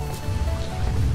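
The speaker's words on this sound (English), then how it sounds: "It's raining." Rain falling in the video game Bugsnax: a dense, steady patter and splash on surfaces, loud and close, with no talking over it.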